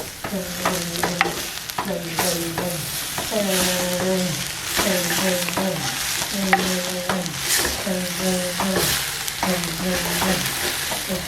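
Onion stalks sautéing in hot oil in a pan, with a steady sizzle throughout and repeated rhythmic stirring strokes that leave short tonal scrapes over about eleven seconds.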